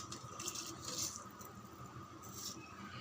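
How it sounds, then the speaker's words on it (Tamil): Quiet, close bubbling of boiling water, with soft hissing and pattering as rice is poured in for chicken biryani. "அப்படியே அந்த அரிசி அள்ளி கொதிக்கிற தண்ணியில் அப்படியே சேருங்க."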